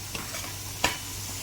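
Ground masala paste sizzles in hot oil for a mutton curry, a steady frying hiss with a couple of sharp ticks as it is stirred in the pan.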